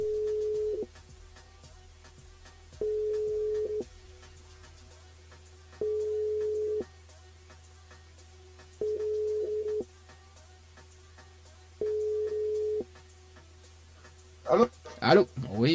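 Telephone ringback on a French radio show call, a steady tone repeating in even pulses about every three seconds over a constant low hum, followed at the end by a brief clatter as the line picks up.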